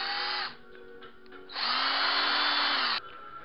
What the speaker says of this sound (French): je viens le faire à la perceuse comme ça